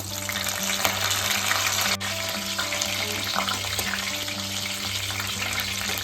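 Curry leaves and green chillies frying in oil for a crab curry give a continuous close crackling sizzle over a low steady hum, with a brief clatter partway through.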